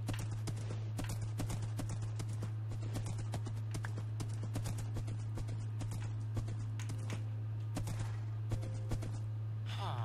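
Horse hooves clip-clop in a Minecraft game, a quick, regular run of soft hoof taps over a steady low hum, faint and continuous throughout.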